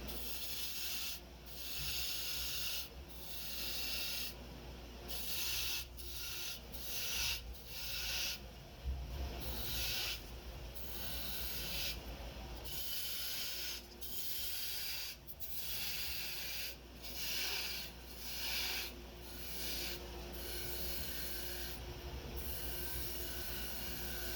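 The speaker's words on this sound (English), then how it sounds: "I will sand up that little surface right there before we flip it around" Sandpaper rubbing on a spinning maple birdhouse blank on a wood lathe, a steady rasping hiss with rhythmic pulses as the paper is pressed on and eased off, close and continuous, with the lathe's low hum beneath.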